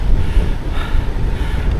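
Steady wind roars and buffets the microphone while cycling along flat, open Norfolk lanes under big skies. The rumble is loud and continuous, with no talk.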